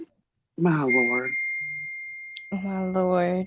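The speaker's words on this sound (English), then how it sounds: "Sorry about my phone going off," A phone notification rings as one steady, high, sustained ding lasting over a second. It sounds between bursts of a person speaking nearby.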